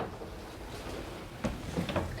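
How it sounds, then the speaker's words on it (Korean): Interior middle door of a duplex officetel swinging open into the living room, giving a couple of soft clicks and a brief slide over quiet room hiss. "자, 그럼 이제 중문을 열고 거실로 들어가 보겠습니다."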